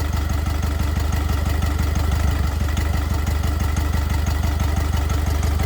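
A car engine with a faulty fuel injector runs rough on three cylinders, a steady loud idle with an uneven low pulsing throb and no voices.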